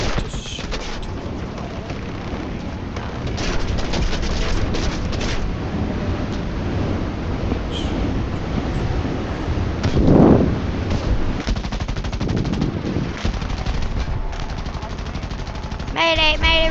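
Aircraft machine guns fire in the War Thunder video game in dense, sustained bursts that run nearly the whole time, loud and close, with a heavier blast swelling near the middle and brief gaps between volleys.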